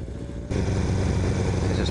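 A Kawasaki motorcycle with a loud exhaust, idling with a steady, rough rumble that jumps louder after half a second and holds close and strong.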